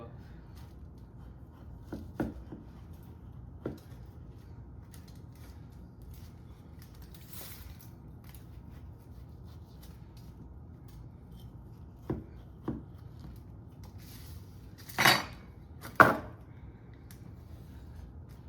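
A knife cuts a baked apple pie into pieces, heard as a few scattered, soft crunching cuts and taps over a faint steady room hum, the sharpest strokes clustered near the end.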